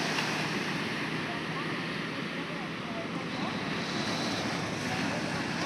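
Ocean surf at night, a dense continuous roar of breaking waves mixed with wind buffeting the microphone, with a voice speaking faintly beneath it.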